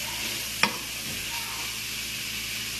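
Chicken and macaroni cook in a pan with a steady soft sizzle, broken once near the start by a sharp utensil knock, with no talking.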